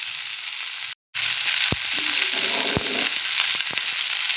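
Shelled green peas tipped into a hot frying pan set off a loud, steady sizzle with crackling pops and stirring scrapes, broken by a brief gap near the start.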